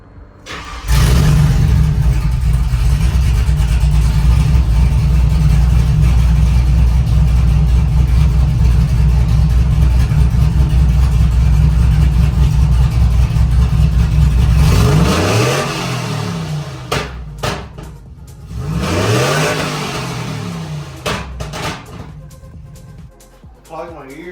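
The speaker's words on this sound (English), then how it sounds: "So I'm gonna go ahead and show you guys how this engine sounds." A loud 5.3 V8 truck engine rumbles steadily at high revs, then drops and surges in a few sharp revs with popping, crackling deceleration toward the end.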